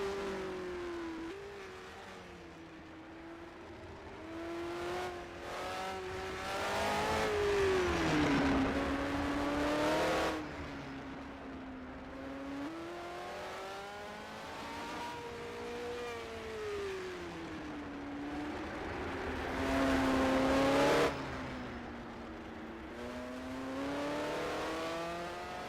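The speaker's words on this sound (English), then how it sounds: "you can see and hear the roar of this Meyer 360M, the Matra MS 630" A Matra MS 630 race car's engine roars continuously, its pitch rising and falling through gear changes as the car accelerates and passes, loud with no voices.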